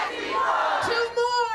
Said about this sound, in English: The hyped up crowd could be heard shouting no SB 4 in both English